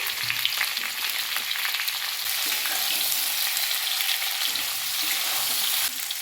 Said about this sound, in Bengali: এবারে আমি গাজর আর সিমটা দিয়ে দিচ্ছি।